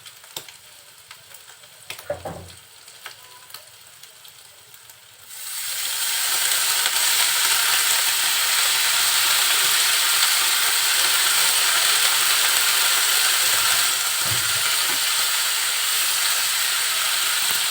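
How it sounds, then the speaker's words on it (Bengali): Kanchan greens drop into a hot pan of frying shrimp, green chilli and onion, and a loud, steady sizzle erupts, continuing without pause after a quieter opening with a few scrapes and clinks. "চিংড়ি মাছ আর ঝাল পেঁয়াজ যখন এরকম ভাজা ভাজা হবে এর ভিতরে এখন আমি শাকটা দিয়ে দিই"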